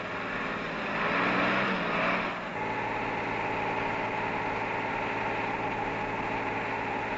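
A Unimog U 406 truck driving at a steady pace over rough terrain, with a continuous engine drone, a louder surge early on, then a steady rumble and slight rattling.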